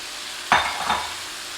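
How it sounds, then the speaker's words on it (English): Onions, carrots and celery dropped into a hot pot for beer-braised beef short ribs burst into a sudden loud sizzle, with a second surge as they are stirred, then a steady crackle of frying. "Now we're going to add our vegetables."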